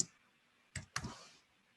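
A couple of quick, light keyboard clicks, close and quiet, followed by a faint fading rattle.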